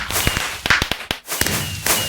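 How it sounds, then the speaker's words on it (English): Fireworks in the game Minecraft crackle and bang in rapid succession on a busy multiplayer server, a loud dense volley of sharp pops with a brief lull midway. "Fireworks going off everywhere."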